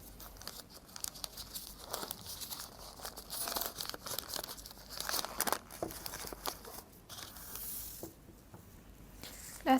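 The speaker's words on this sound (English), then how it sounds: "Inside is the oil paper to wrap it up." Oil paper wrapped around a fuel injector valve assembly is pulled open by hand, producing faint, irregular crinkling and rustling bursts that come and go in short clusters.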